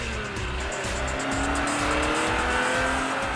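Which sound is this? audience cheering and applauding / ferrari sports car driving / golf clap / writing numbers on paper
ferrari sports car driving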